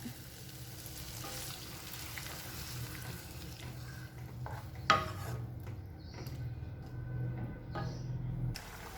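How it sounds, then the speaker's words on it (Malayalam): Tamarind water for a brinjal curry bubbling in a pan, a steady close simmering hiss with faint bubbling and a few sharp clicks of a utensil against the pan, no talk. "ഇപ്പം നമ്മുടെ പുളിവെള്ളമൊക്കെ നന്നായിട്ടൊന്ന് തിളച്ചിട്ടുണ്ട്"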